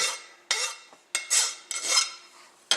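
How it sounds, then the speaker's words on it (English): A file or deburring tool scrapes the burr from the edge of freshly bandsaw-cut metal in a few short, rasping strokes, close and fairly quiet. "I'm going to take the burr off the edge of it"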